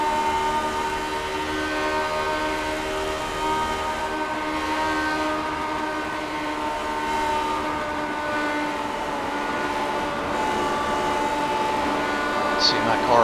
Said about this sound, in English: you can hear Jack backing out of the throttle here big time.